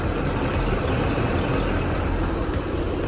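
A 6.6-liter diesel truck idles nearby with a loud, steady low rumble and an even mechanical drone throughout, with no voices.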